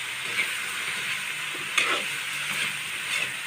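Aromatics, carrots and potatoes for chicken afritada sizzle and get stirred in a hot pan, a steady frying hiss broken by a few scraping stirs, close and with no one speaking.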